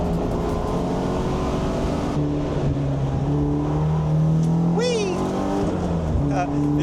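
BMW E36 with a swapped B48 engine pulling hard on a race track, a steady loud engine drone rising in pitch under excited voices throughout.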